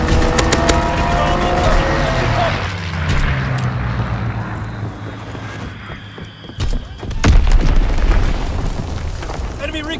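Fighter aircraft strafing run in the video game Call of Duty WWII, with deep booming explosions and rumbling blasts under roaring engine noise, then a sharp burst and another heavy roll of explosions later, all loud and dense.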